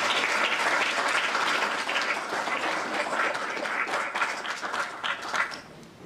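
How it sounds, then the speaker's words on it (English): Sustained audience applause at a professorial inauguration, a dense, even roar of many clapping hands that holds steady and then thins slightly toward the end, heard from within the hall. "we should give Professor Habib Noorbhai another round of applause"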